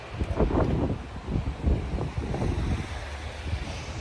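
Strong sea wind near the shore in the United States buffets the microphone in rumbling gusts, with a broad rushing roar like open sea air.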